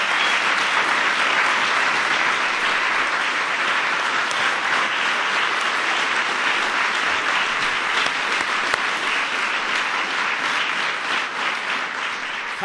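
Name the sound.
applause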